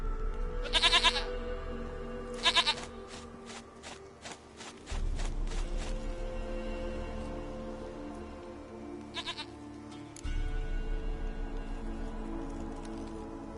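Goat bleats in The Witcher 3: Wild Hunt, short separate calls spread through the stretch over low ambient game sound, with a few soft footstep-like taps. No one speaks.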